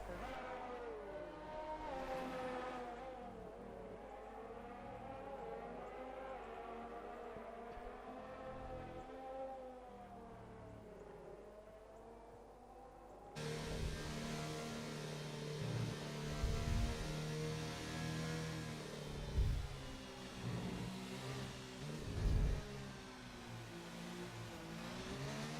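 A race car engine runs through a lap, likely in a racing video game, with steady high revs and rising and falling pitch as it shifts and corners, close and continuous.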